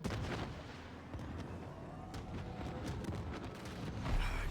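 Ship cannons firing in the video game Warframe, a dense, continuous barrage of booming blasts and rumbling impacts with no clear gaps, loud throughout.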